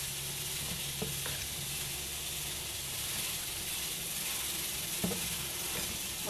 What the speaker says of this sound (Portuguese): Vou mexer bem aqui, pra gente ir colocando amido de milho